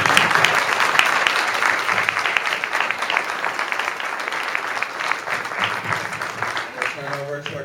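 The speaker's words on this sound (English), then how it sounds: "I want to give a round of applause to" An audience applauds a panel in a steady, dense wash of clapping that carries on throughout, fading slightly toward the end as voices start to come through.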